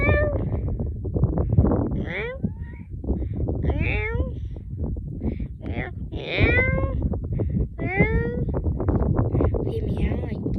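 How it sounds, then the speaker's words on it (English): Several kittens on a ranch give repeated high, rising meows in quick succession, close and clear, while a person talks underneath. "He meow like Blaze"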